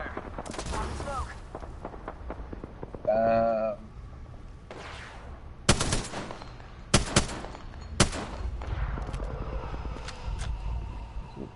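Apex Legends gunfire cracks out in scattered loud single shots and short bursts amid game effects, with voices talking between the shots.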